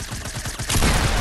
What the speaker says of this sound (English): Pump shot, literally.